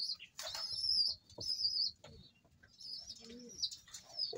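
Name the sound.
racing pigeon cooing and flapping wings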